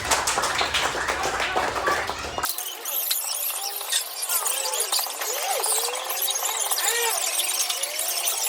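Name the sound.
students applauding a group in a classroom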